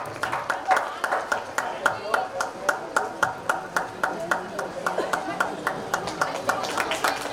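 Audience at a PGHS Baliapur school celebration clapping in a steady, rhythmic beat of sharp, evenly spaced claps, moderately near, keeping time for several seconds.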